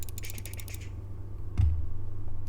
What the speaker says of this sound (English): see how I'm left clicking a bunch?